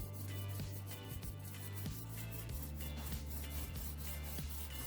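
A small roller spreads varnish over a wooden board, producing a continuous close rubbing roll with a low hum underneath and faint rhythmic clicks.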